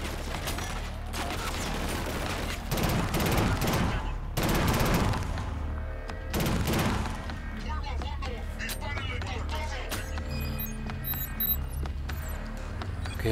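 Gunfire from the shooter video game Killzone: Shadow Fall, repeated bursts and single shots spread through the stretch, loud and close, with game music and effects and a voice speaking over parts of it.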